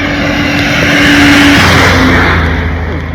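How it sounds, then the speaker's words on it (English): Several chicken buses drive past on a wet road in rural Guatemala, a loud steady engine roar with tyre hiss and water spray swelling and fading over about three seconds. "About 8 chicken buses in a row."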